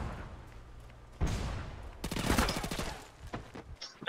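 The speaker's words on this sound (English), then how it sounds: "Where in the goddamn world am I being shot from?" Online match of SOCOM Confrontation with a sharp opening shot, then a tense pause before a dense burst of rapid automatic fire. A few scattered single shots and a distant crack follow.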